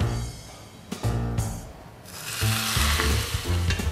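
Hot coconut oil poured over grilled Jimbaran-style Balinese shrimp with dabu-dabu sambal, giving a loud, steady sizzle that swells partway through and then crackles on with no talking.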